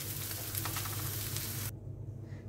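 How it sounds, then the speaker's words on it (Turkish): Fried garnish sizzles as it is stirred into Turkish rice pilaf in a pan, a steady close crackle with soft scraping that cuts off abruptly partway through, with no talking. "Şimdi onu pilavla karıştıracağım."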